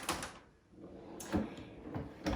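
A drawer in a home sewing and quilting studio slides open with a few close wooden knocks and a short rolling scrape, heard alone and fairly quiet.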